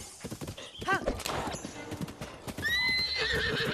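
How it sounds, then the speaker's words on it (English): A horse gallops in Breath of the Wild, quick rhythmic hoofbeats with a neigh and in-game whinny sounds, layered with game music and effects at close range. "You would think the horse would know not to run straight into the wall."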